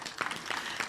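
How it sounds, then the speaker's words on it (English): A town hall meeting audience clapping, a short burst of scattered applause from across the room. "Please give him a big round of applause."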